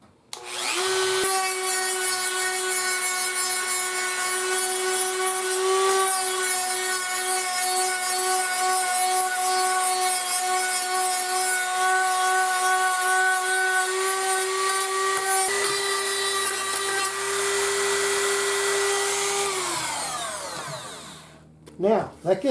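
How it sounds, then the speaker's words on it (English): A power tool grinding hardened epoxy flat on an old Amplion horn speaker, a loud sustained high-pitched whine with strong tonal harmonics that briefly dips, then winds down near the end, close and alone. "Now I'm going ahead and grinding these off flat."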